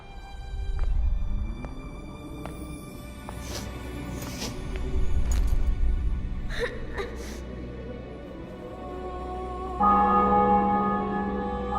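Church bells ring in a video game's triumphant city-capture scene, several bright strikes in succession with a sustained tone at the end.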